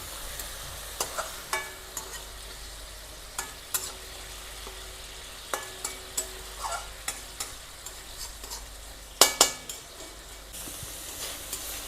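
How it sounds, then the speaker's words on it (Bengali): Minced meat cooking in a pan with a little water, a soft constant sizzle under regular spoon scrapes and taps on the pan, close and fairly quiet. "এবার আমি অল্প একটু পানি দিয়ে একটু সিদ্ধ হতে দেবো"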